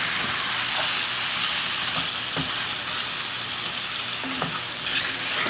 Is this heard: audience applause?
no